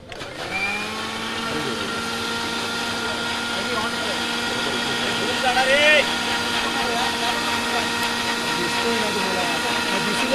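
Electric mixer blending milk runs as a steady, loud motor whine with a constant droning hum, holding an even level throughout with a slight surge midway and faint background noise.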